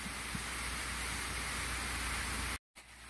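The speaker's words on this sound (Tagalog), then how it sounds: "Ayan po, mas lumakas po yung ulan." Heavy typhoon rain during Typhoon Wilma in Camarines Sur, Bicol, falling as a steady, dense hiss that fills the scene, cut by a brief dropout near the end before resuming.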